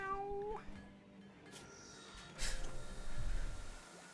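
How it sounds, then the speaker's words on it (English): A cat meows in a video game, one drawn-out meow at the start followed by soft game ambience and a couple of brief thumps, with no talk over it. "Meow."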